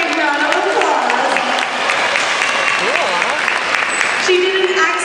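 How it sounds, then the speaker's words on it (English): Audience applause fills a dolphin show at Brookfield Zoo, a steady wash of clapping from a large crowd with scattered voices and cheers mixed in, with a brief whistle-like tone near the end. "Let's give her a great big round of applause."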